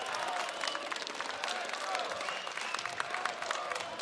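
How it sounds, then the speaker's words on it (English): At an esports major Counter-Strike match, a crowd claps and murmurs at a moderate distance, a continuous wash of applause with some cheering underneath, while a caster may be faintly talking. "Might hear some clapping in the background."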